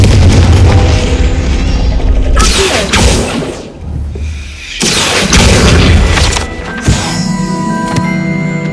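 Confringo spell explosions in Hogwarts Legacy on Xbox Series S, a run of loud, heavy booms with rumbling blasts and crackling debris, several bursts in close succession.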